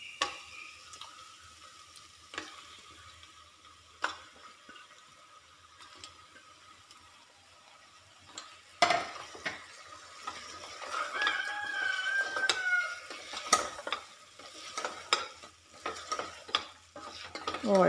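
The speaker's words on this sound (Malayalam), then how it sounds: "ഇനി നമുക്ക് മാറ്റി വെച്ചിട്ടുള്ള ചിക്കൻ ഇട്ട് കൊടുക്കാം." Chicken pieces are added to a hot pan and stirred while frying for chicken molee curry, giving crackling sizzle and scraping spoon strokes, with sparse clicks first, then busier stirring, and chickens clucking faintly in the background.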